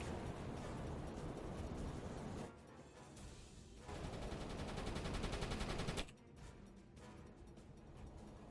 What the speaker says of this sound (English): Okay, we're finally getting some shots on the other one.